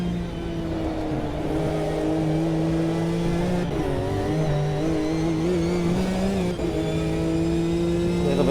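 Racing cars in an endurance racing video game, historic cars including a Ferrari, rev hard and accelerate, engine pitch climbing and shifting in a continuous loud whine with several cars overlapping.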